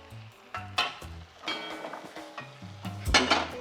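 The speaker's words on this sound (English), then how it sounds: "Now we'll just add a little bit of the cooking liquor" Pasta cooking water going into a pan of amatriciana sauce, with a sizzle and repeated scraping and clinking as a utensil stirs against the pan, close and irregular.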